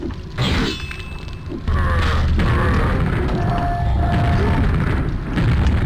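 Proximity bounce bombs in a video game mod burst into a loud, sustained run of booming blasts and crashing debris, following a shorter thump at the start.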